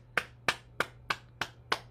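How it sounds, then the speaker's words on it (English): A person claps their hands six times at an even, steady pace during a morning bouncing and meditation routine, with each sharp clap ringing out close and clear over a faint low hum. "Let's clap our hands."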